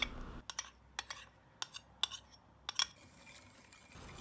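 A spoon or whisk scraping and clinking against a pot while stirring milk, sugar, starch and flour pudding, a series of sharp, quiet metallic taps in an irregular rhythm over faint background noise.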